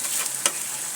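Thinly sliced potatoes frying in a pan give a steady, soft sizzle with one brief clatter of stirring midway, close and moderately quiet, with no voices.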